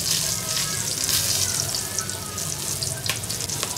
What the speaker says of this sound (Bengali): এখন আমি এর মধ্যে কিছু আস্তা দারচিনি আর এলাচ আমি তেলের উপরে দিয়ে দিচ্ছি।